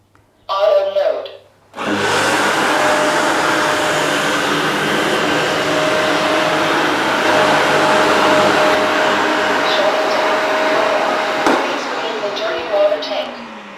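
Tineco Carpet One carpet washer in auto mode running over a rug, a loud steady motor whine and suction roar that starts after a brief voice and holds for about twelve seconds with slight pitch shifts.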